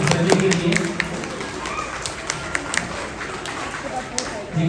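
Applause for a child at a school annual day: a crowd of hands claps in a scattered, steady patter with sharper individual claps standing out, fairly close and sustained throughout.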